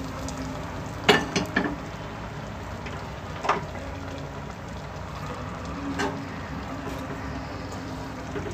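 Tempering being tipped into banana stem kootu and stirred in a pan, a few quick sharp clatters and splashes of sizzle early on, then a faint steady background hiss with occasional soft stirring scrapes.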